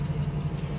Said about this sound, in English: Here's a little snippet of the idle.